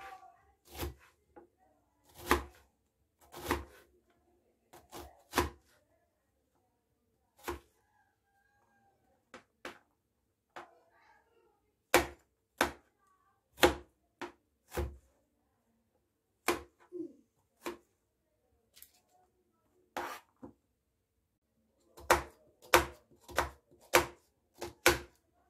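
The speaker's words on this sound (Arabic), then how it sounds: "نقطعها بقى باي شكل وباي طريقه انتوا حابين تقطعوا بيها البصل" Kitchen knife chopping onion on a board, sharp isolated thuds in irregular clusters with quiet gaps between them, close and clear, no voices.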